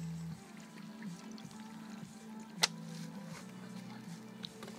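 Beer is poured onto a UAZ off-road vehicle's tyre, a faint, soft liquid splashing under a low background hum, with a brief sharp knock midway.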